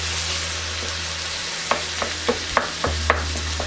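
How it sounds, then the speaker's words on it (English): Seasoned ground beef browning in a pan for tacos, a continuous sizzle broken by a run of sharp scraping and tapping stirs in the second half, with no voices. "you're just gonna fry it up a little bit, get it nice and brown"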